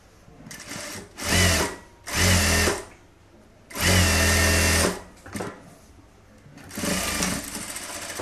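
A sewing machine stitching a strip for a blouse runs in four loud, close bursts of fast mechanical whirring and clatter, separated by short pauses with faint handling sounds between runs.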